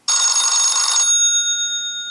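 A ZTE Open phone sounds the Firefox OS Classic Wall Phone ringtone, a loud rattling old-style telephone bell burst of about a second followed by lingering metallic ringing tones that decay slowly.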